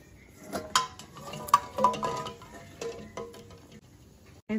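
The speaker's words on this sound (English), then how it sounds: "Slowly put in the eggs." Eggs eased one by one into a pot of hot water in a kitchen, giving several distinct clinks and knocks against the pot, spaced irregularly, with quiet gaps between.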